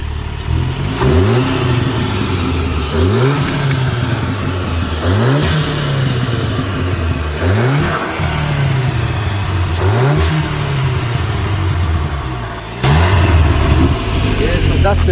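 Audi S3 with a resonator-delete exhaust revving repeatedly, each rise in engine pitch climbing sharply then dropping back, close and loud, with a person talking over the engine throughout.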